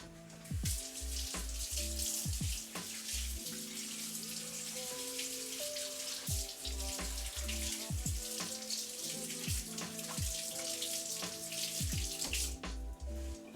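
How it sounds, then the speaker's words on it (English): Running tap water pours steadily as hands are rinsed at a kitchen sink during cooking, a continuous close hiss with faint clinks over a background music bed. "I'm only rinsing my hands because we're gonna have to do a second pass on all of these"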